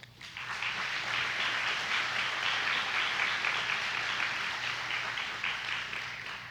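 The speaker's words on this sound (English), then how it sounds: "and deserve a round of applause." An audience at the 2022 Monroe County Fair queen and princess pageant in Indiana breaks into sustained, even applause that swells quickly and holds steady for several seconds, with no voices over it.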